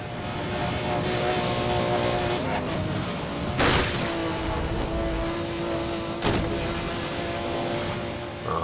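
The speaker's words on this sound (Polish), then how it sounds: "Mam mój tuningowany silnik." Tuned car engine in the Need for Speed World racing game, a steady loud engine drone with harmonic whine held throughout, broken by two brief thuds or impacts partway through.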